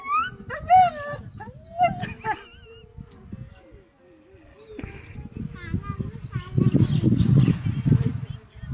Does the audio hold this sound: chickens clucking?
no